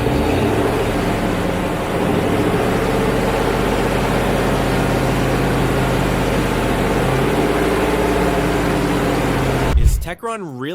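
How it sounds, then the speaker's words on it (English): A car engine runs steadily at a loud, constant drone while fuel system cleaner is sprayed into it, then the sound cuts off abruptly near the end. "have the motor running, and I'm gonna go ahead and give it some revs and start spraying the fluid."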